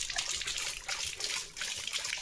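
Leo, a German Shepherd, laps water up close in a home courtyard in the evening, producing a steady, wet, splashy trickling with no voices.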